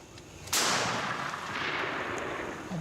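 A single loud shotgun blast fired while turkey hunting booms out suddenly, then rolls away in a long echoing decay across open country.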